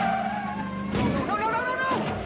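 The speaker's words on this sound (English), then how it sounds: "You just backed over a two-foot concrete abutment." A car reverses fast over a two-foot concrete abutment in a film scene, with a revving engine and a sharp jolt, then skidding tires whose pitch slides up, all close and loud over background sound.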